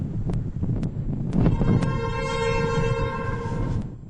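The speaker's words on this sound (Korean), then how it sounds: "하얀색 호랑이 문양의 협곡열차가 백두대간에 들어섭니다." A white tiger-pattern canyon train enters the Baekdudaegan mountains, its loud rumbling run joined by a long, sustained horn blast that rises over the rolling noise.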